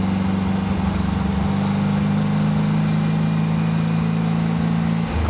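A 1948 Porsche 356 Speedster replica with carburetors cruising in third gear, a steady, loud, mid-pitched engine drone heard from inside the car, holding an even pitch with only slight variation and no talking.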